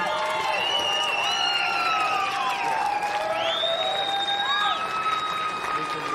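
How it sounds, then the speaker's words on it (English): A large crowd applauds and cheers continuously at the closing ceremony of the 2022 Men's Softball World Cup, with whistles and rising shouted tones carrying over the steady wash of clapping. "Keep your applause rolling, everyone."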